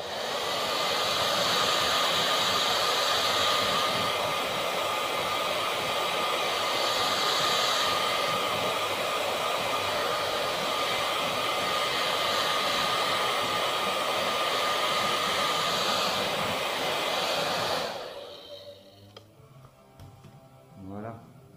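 A heat gun blows hot air onto T-molding before it is installed, a loud steady whooshing roar that holds for about seventeen seconds and then cuts off, leaving quiet handling noises.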